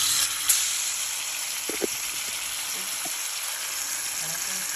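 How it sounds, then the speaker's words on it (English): Garlic sizzles in a hot pot, a constant bright hiss with a few light clinks of a utensil and no talk. "This is the garlic. We got it in the pot"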